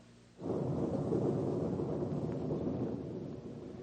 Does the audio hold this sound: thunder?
yes